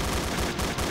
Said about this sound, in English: This is one machine gun.